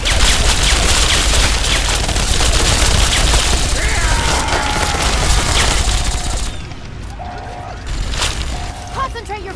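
Dense battle gunfire in the video game Fallout 3, rapid automatic bursts and booms layered into a continuous loud barrage that thins into a few separate shots and electronic tones, with shouted voices mixed in.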